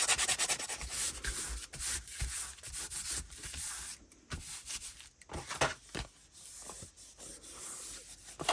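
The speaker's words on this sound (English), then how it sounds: "I'm going to sand this edge down because I can't cut it anymore because I've glued the darn thing." Edge of a glued handmade junk journal being sanded down, with steady, close rasping strokes that run continuously with brief pauses.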